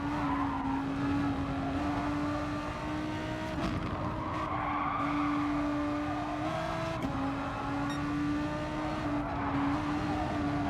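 Lexus race car engine in GT Sport, a Group 4 racer on the long Kyoto circuit, holding a steady, loud, continuous drone with tire squeal and brief shifts in pitch, heard alone without talk.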